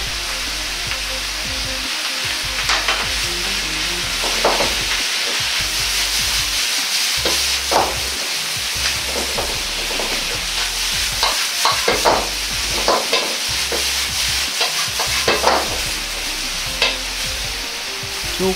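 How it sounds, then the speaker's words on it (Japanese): Steady loud sizzling of cabbage leaves and wood ear mushrooms stir-frying in a hot wok, with repeated scraping and tossing strokes of a spatula throughout. "葉の部分とキクラゲを入れ炒めていきます。"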